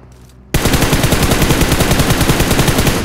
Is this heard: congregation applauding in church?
no